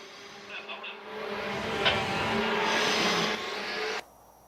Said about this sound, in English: The sound of the cars roaring to the heavens.